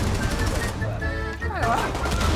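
Dense rapid gunfire from a Rainbow Six match crackles in the first second, fades into a brief lull with tonal game sounds and voices, then returns as busy shooting.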